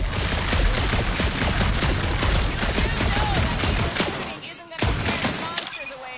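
Rapid bursts of gunfire in the game Guardians of the Galaxy, dense and loud shots for about four seconds, then a brief gap and a few scattered shots with effects.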